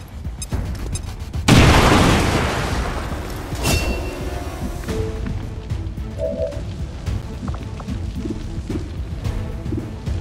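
In XCOM 2: War of the Chosen, a frag grenade goes off with a sudden heavy boom, followed by a decaying rumble and scattered crackling debris and game sounds.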